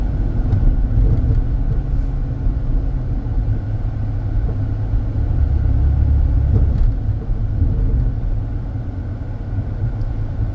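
A 2006 Chrysler 300 cruising down a road, its engine and tires making a steady, low rumble that stays close and even for the whole stretch, with no one speaking.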